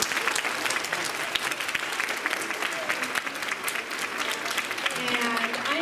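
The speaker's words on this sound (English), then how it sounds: "So a round of applause because we're back in person." Audience clapping at a school Suzuki concert, dense continuous applause filling the room with some voices and faint tonal sounds mixed in beneath it.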